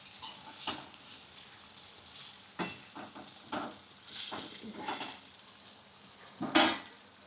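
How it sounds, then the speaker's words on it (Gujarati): Sprouted math beans stirred in a pan, soft scraping and light clinks of a spoon against metal with a faint sizzle beneath, occurring in short irregular strokes. "આપણે આવી રીતના હલાવતું રહેવાનું"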